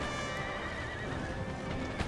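Cavalry horses neigh and whinny in a Napoleonic battle in the game Napoleon Total War, high cries set against a dense, steady wash of battle noise.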